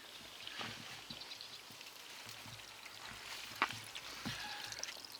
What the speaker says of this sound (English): this little pump is currently lifting the water about 14 inches maybe from the surface of the water to here, and that's the flow that it's delivering